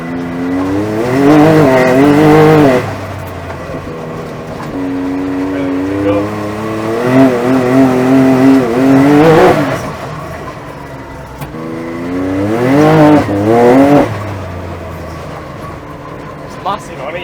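A buggy driving on an engine that revs up and down in long swelling passes, loud and close, with brief quieter idling gaps between the revs and no talk.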